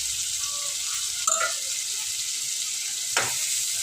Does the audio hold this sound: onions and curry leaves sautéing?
yes